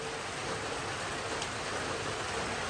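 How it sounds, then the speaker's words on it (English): Rain falls outside by a chicken coop as a dense, steady hiss of drops on surfaces. No separate hail strikes stand out and no one speaks. "And then rain started up. And, well, it hailed even for a few minutes."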